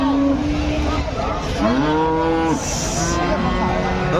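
A Friesian dairy cow at a cattle market lets out loud, nearby moos. A short call comes first, then a longer rising-and-falling bellow, with steady crowd and market noise throughout.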